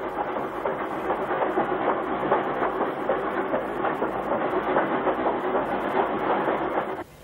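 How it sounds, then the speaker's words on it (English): A steam-era train rumbles and clatters steadily on the rails, loud and close, with rhythmic clickety-clack and hissing that cuts off abruptly at the end, with no talking. "the train should be arriving at the station about now"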